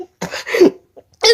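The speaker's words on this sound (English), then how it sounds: "A clot of blood. I cough up." A person coughs up a blood clot after a nosebleed and choking during sleep, giving harsh, wet coughing and throat-clearing bursts in three close, loud fits with brief pauses between them.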